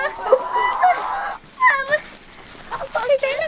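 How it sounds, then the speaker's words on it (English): A docile hen being held gives a rising, honking cluck and then a string of softer clucks and squawks, close by, while people talk in the background. "She's the most docile chicken."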